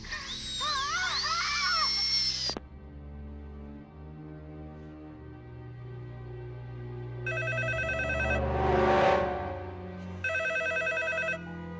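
In a tense horror-film scene, a telephone rings in two electronic bursts separated by a pause, with a rising whoosh and other tones between them.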